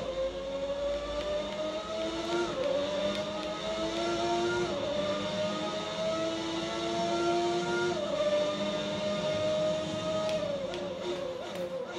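A 1991 McLaren Formula 1 car engine in a racing video game at the Austrian Grand Prix whines steadily at high revs, with several gear shifts dropping and climbing in pitch, fairly faint and continuous with no talk.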